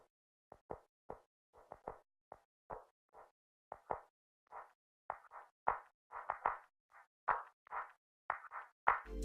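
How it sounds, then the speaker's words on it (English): Chopped clap loop from the Ecology drum kit, a run of short dry claps in an irregular, syncopated pattern, some hits doubled and others smeared into brief bursts, close and alone, building slightly louder toward the end. "I have claps. This is a loop which I chopped up."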